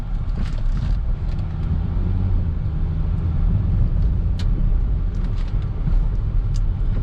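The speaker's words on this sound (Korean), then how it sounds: "지금 제가 시운전을 하고 있는데" A used Kia Morning car on a test drive drives steadily with a constant low engine rumble and road noise, plus some wind buffeting, with no talking.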